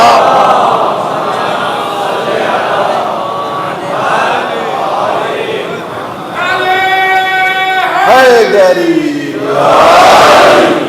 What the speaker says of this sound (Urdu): اچھا وہ نعرے لگے